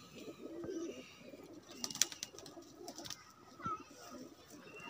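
A pigeon gives a low cooing call close by, mixed with faint rustling, light clicks and some background murmur.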